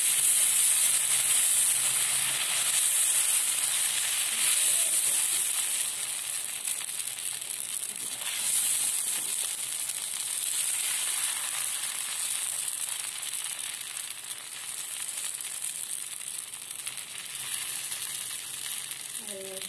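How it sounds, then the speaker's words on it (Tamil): Dosa batter poured onto a hot pan, a loud, close, continuous sizzle and hiss that fades slightly over time, with no speech. "இப்போ நம்ம தோசை ஊற்றிடலாம்."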